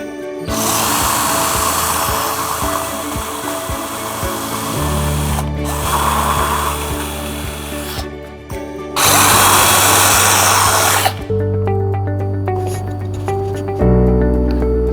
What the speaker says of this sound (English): I make sure I really drill it accurately.